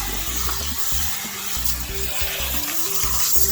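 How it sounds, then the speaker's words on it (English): Running water splashes steadily and close while conditioner is rinsed out of hair, a continuous hiss with low gurgling pulses, and no talking. "make sure that you're rinsing it out completely"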